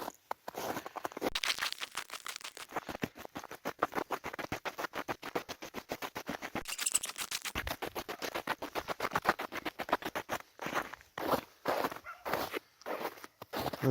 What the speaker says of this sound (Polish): Śnieg skrzypi pod nogami.